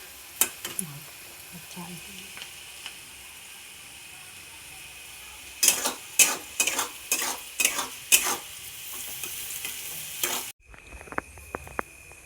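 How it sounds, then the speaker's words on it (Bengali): Rice and fried vegetables stir-fried together in a kadai, with cashews and raisins, giving a steady low sizzle and then a run of loud scraping stirs from a spatula, close up; a brief clatter follows near the end. "ভাতটা প্রথমে করে তারপরে সবজি ভেজে একেবারে কড়াইতেই দিয়ে দিই ভাত"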